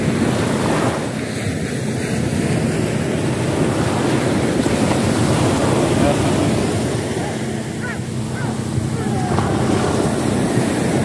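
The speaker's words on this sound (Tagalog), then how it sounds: "tingnan mo yung alon humahampas-hampas yung tubig doon." Ocean waves crash and wash against the shore at Nasugbu in a steady, loud roar, mixed with heavy wind buffeting the microphone.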